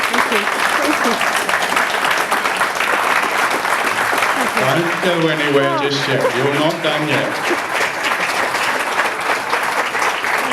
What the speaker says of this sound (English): Give it a huge round of applause, ladies and gentlemen.